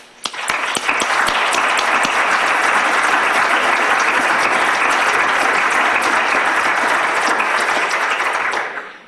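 An audience at a 2010 charity symposium breaks into sustained applause welcoming a speaker, steady full-room clapping that holds loud for several seconds before tapering off.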